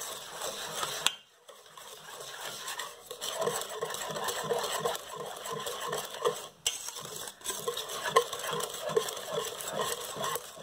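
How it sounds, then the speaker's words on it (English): Vegan gluten-free banana bread batter with egg replacer whisked in a bowl, rapid rhythmic scraping and clicking of the whisk against the sides, close and fairly quiet, with a couple of brief pauses and no talking. "try to whisk this all together"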